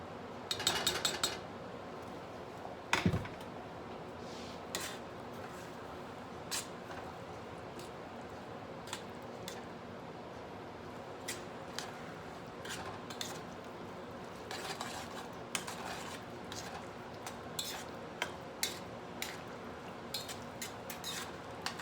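A spoon scrapes and clinks against a pot while a cornstarch mixture for Saskatoon berry pie is stirred, with light irregular taps and chinks over a steady low background hum and no talking.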